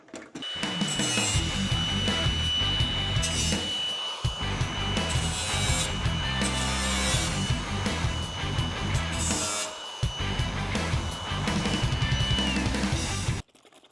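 Metal trimming on a 2nd-gen Camaro door skin: a close, loud, continuous rasping and grinding of a power tool on sheet metal, running in long bursts broken by brief pauses.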